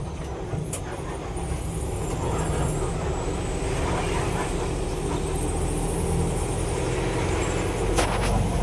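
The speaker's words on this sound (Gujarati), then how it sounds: "અત્યારે આપણે રેલવે બ્રિજ ક્રોસ કરીએ છીએ" A vehicle driving across a railway bridge on a flooded rural road, heard from inside as a steady, close rumbling drone of tyres and engine that holds throughout, with no clear talk.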